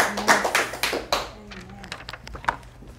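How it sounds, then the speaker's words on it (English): Church congregation clapping hands, a burst of loose overlapping claps that thins out into scattered claps over low murmuring. "So give the Lord a great big hand clap"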